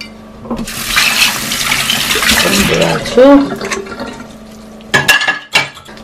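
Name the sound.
water draining from cooked ramen noodles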